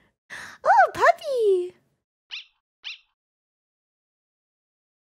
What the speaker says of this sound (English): It's the greater dog.